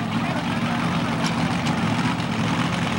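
A Case International pulling tractor in a Super Stock class at a 1995 Woodbury, Tennessee pull, its heavy engine a steady low roar that holds level throughout, at moderate distance.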